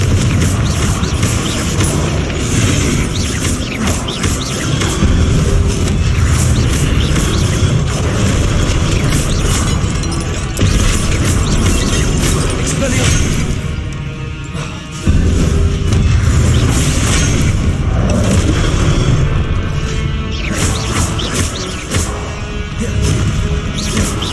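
Repeated Confringo spell explosions in Hogwarts Legacy, with loud booming blasts and mechanical clatter over a dense, constant battle din with no quiet gaps, one sharp hit standing out midway.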